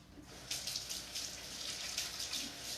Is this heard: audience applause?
no